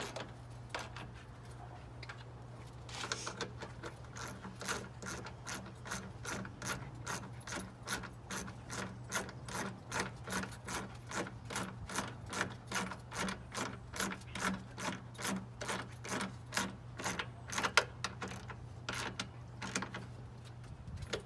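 Ratchet wrench tightening vehicle headlight fasteners, with a long run of rapid, even clicks over a steady low hum, close and fairly loud, quickening slightly toward the end.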